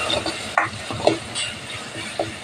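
Okra tamarind curry with the oil separating sizzles softly in a pan while a spoon stirs it, giving a steady frying hiss broken by a few brief scraping strokes.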